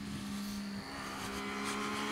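A new Triumph middleweight naked motorcycle engine runs at a steady, faint hum with a droning tone, heard close but quiet and alone.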